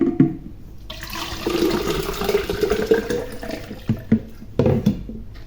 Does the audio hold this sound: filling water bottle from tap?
yes